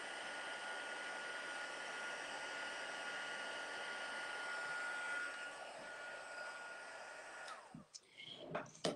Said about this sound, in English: When you're using your heat gun, if you're new to embossing with powder, you don't want to overheat it